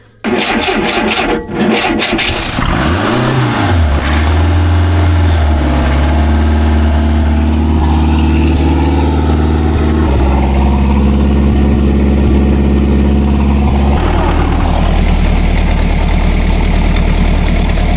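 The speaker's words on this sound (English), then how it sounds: "we're gonna start the first engine and see how that one goes" A boat engine cranks and catches, then runs loudly with a rough, throbbing idle and shifts in revving pitch, close and sustained.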